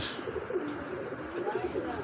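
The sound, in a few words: female pigeon cooing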